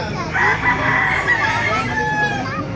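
Roosters at a busy chicken market in Baliuag crow loudly and close, overlapping drawn-out calls with clucking fowl around them and people talking in the background.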